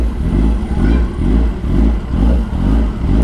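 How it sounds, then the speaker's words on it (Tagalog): A 2022 Kawasaki ZX10R motorcycle engine runs close by with a deep, steady rumble that swells and eases in slow, regular pulses, with no voices over it. "Ba't ganun yung andar ng motor"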